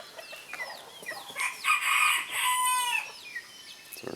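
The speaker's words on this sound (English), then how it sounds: "So our chicken populations have grown," Farm chickens cluck steadily while a rooster crows loudly through the middle, with other birds chirping faintly in the background and no voices.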